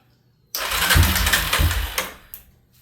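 A quad bike's engine catches and runs for a couple of seconds, a close, loud, rough sputtering roar that fades down and cuts out, with a brief blip after.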